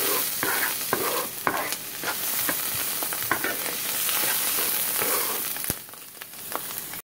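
Mushrooms and onions seasoned with cracked pepper sizzle steadily in a hot pan while a utensil stirs them in repeated scraping strokes, close and continuous until an abrupt stop.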